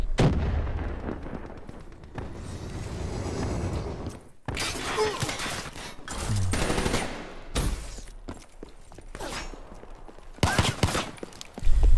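Gunfire in Call of Duty: Black Ops 3 multiplayer: repeated loud bursts of shots and impacts come in clusters across the whole stretch, with brief lulls between and a heavy blast near the end.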